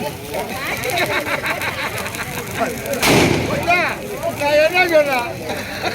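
A single damp, delayed firecracker bang bursts out midway at a Kama Dahanam festival while people talk loudly throughout.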